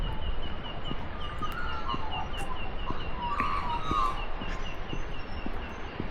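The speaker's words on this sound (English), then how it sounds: "You can probably hear all the birds squawking in the background." Birds squawking and calling near Ebor Falls on Waterfall Way, NSW, with scattered repeated chirps over a steady roar of falling water, moderately distant, no talk.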